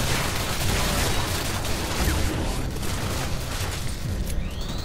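An oil can explodes in the video game Singularity, a dense, continuous roar of blast noise that fills the whole stretch at high level, with no talking over it.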